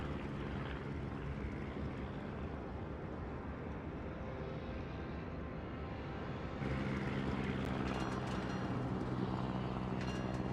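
Propeller fighter aircraft launching from a carrier in World of Warships, a steady broadband engine drone rising slightly in loudness partway through, heard over continuous naval game ambience with no voices.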